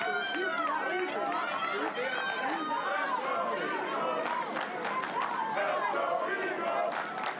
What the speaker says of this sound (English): Eagle faithful trying to get the crowd in it